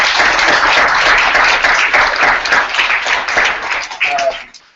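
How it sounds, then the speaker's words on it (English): Applause from the audience at a civic hacking weekend presentation event, a broad steady burst of clapping that fades out near the end, with some voices mixed in underneath. "give yourselves a round of applause for all your work this weekend"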